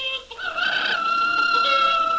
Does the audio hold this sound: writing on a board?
no